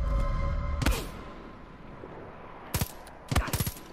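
Gunfire in the video game Far Cry 5: one sharp shot, then after a quiet stretch two short rattling bursts of several rapid shots, fairly loud over a low game ambience, with no talking.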